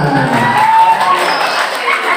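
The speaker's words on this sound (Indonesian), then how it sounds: "Beri tepuk tangan." Audience at an Islamic sociology lecture cheers and claps loudly, a blended crowd roar with shouts and whoops from close by, a steady wash rather than separate claps.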